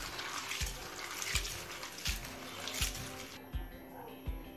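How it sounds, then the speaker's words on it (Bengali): Flattened rice (poha) being washed in water, with soft splashing and sloshing and several separate low thumps as the water is swirled and changed, close and fairly quiet. "এবারে চিড়েটা বেশ কয়েকবার জল বদলে বদলে পরিষ্কার করে ধুয়ে নেব।"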